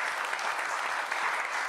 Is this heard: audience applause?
yes